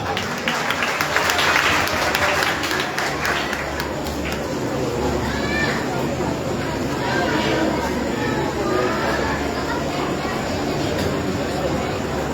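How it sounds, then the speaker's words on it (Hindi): Steady applause from a worship gathering crowd in Jaranwala fills the space, continuous clapping at a fairly loud, even level for the whole span, with voices mixed underneath. "जोरदार ताली दें"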